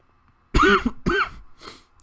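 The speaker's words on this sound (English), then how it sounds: "I just have a cough." Two harsh, loud coughs in quick succession, followed by a fainter third, close to the microphone during a live race commentary.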